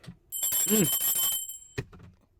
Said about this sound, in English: Post notification bell